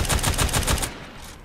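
Rapid burst of gunfire aimed at a training dummy in Fortnite, a quick string of about six loud shots in under a second before fading out.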